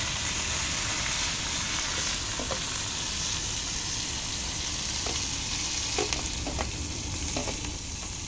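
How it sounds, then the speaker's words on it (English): Onion, green chili and curry leaves frying in hot oil over a village cooking fire, a loud, steady, crackling sizzle close by that runs unbroken throughout, with occasional faint pops. "Then after you can add onion, green chili, curry leaves"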